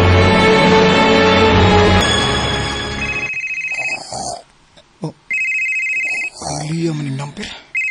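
An incoming call rings on a phone in a home, a steady high electronic ringtone entering partway through, after loud speech and music, and continuing with talk over it.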